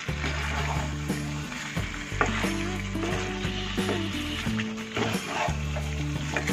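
Chicken pieces coated in masala fry and sizzle steadily in a pan for a chicken gravy, with repeated scraping stirs of a spoon cutting through the continuous crackle.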